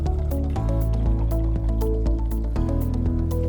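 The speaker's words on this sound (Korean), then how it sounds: "보글보글 끓으면 홀토마토 통조림을 넣을게요" Canned whole tomatoes tipped into a pot of simmering chili con carne, giving loud wet squishing and dripping plops with a few soft thuds over about three and a half seconds.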